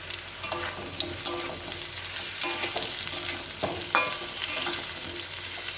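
Potato and jackfruit-seed chorchori fries in a pan with a steady, close hiss and crackle while it is stirred repeatedly. The spoon scrapes and taps come through clearly, and no one speaks.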